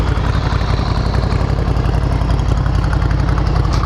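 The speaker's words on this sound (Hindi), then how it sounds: "so this is Ducati scrambler 900 classic" A 2018 Ducati Scrambler 900 Classic engine idling nearby, a steady, loud, low throbbing rumble with a regular pulse and no talking.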